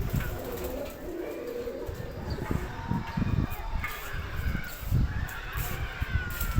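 Pigeons kept on a rooftop garden coo repeatedly at close range, soft throaty calls sounding over light background noise.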